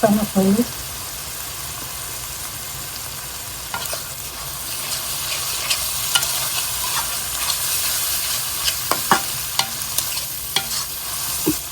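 Onion and spices frying in a pan for a rui fish curry with potato and cauliflower, a steady soft sizzle and hiss with occasional scraping stirs, and brief sounds at the start.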